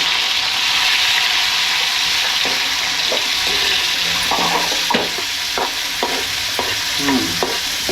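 Onion, green chili and tomato fry in a pan under a constant loud sizzle, while a spoon scrapes and taps the pan in a string of short knocks as they are stirred.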